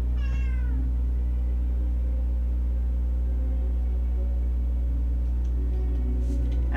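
A cat meows once, a short clear call at the start, then quiet room hum with a faint second mew near the end.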